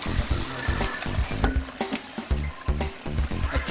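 Herbs fry in hot oil for a homemade hair remedy, a close, crackling sizzle with irregular popping and bubbling bursts, steady and moderately loud with no talk.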